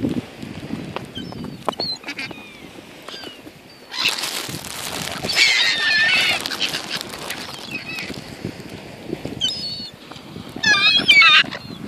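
Swans and seagulls squabble over scraps of food on the water, with birds calling and flapping in a burst of noisy activity mid-clip and again near the end, amid scattered splashes and some background voices.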